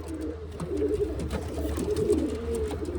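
Pigeons coo steadily in a loft housing a newly added breeding pair, low murmuring calls overlapping continuously at close range with no talk.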